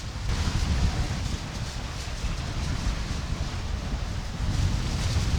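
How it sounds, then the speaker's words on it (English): Strong wind roars and buffets the microphone aboard a sailboat underway on the Sea of Cortez, a dense, steady rush with low rumble and no voices. "We got good wind and we are moving now."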